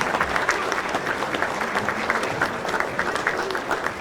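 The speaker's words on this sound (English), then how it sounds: "Let's have a round of applause for Kathy Gauthier, the traveling lady of curling." Audience applause at a hall of fame ceremony honoring a curling figure, a full steady round of clapping from a crowd with murmured voices beneath.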